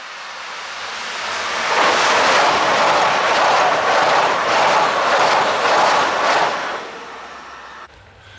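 A train runs through Winsen station, a broad roar that swells over about two seconds, holds loud and steady, then fades toward the end, with no voices.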